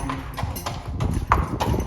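A horse on a trail ride at Spruce Mountain Open Space in Larkspur, Colorado, hooves clip-clopping in a steady walking rhythm of about six close, distinct footfalls on the ground.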